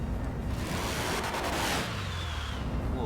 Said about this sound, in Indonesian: Wow, suara nosnya itu